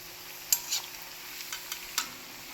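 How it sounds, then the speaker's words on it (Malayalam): Snacks deep-frying in hot oil give off a faint, steady sizzle, broken by a few soft clicks and taps from a utensil. "അങ്ങനെ എല്ലാം ഞാനിങ്ങനെ ഫ്രൈ ചെയ്തെടുത്തിട്ടുണ്ട്"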